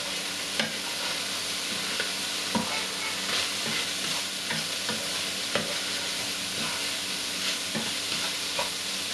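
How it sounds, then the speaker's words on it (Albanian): Garlic sizzles steadily in a hot pan while a utensil scrapes and stirs through it in regular strokes. The frying is close and continuous, for a chicken byrek filling, with no talk. "Do shtoj hudrat. Do t'i trazojmë."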